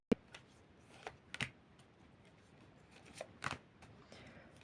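Soft, sparse clicks and slaps of tarot cards being laid out on a surface, a few separate taps spaced out over quiet background.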